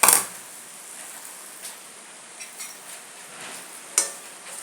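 Mango pickle is stirred in oil in a pan: a few light scrapes and clinks of a spoon over a faint background hiss, with a sharper tap near the end.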